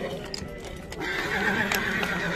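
At a horse market in Bishkek, a horse lets out a loud whinny over crowd noise and hoof clatter, with people talking in the background.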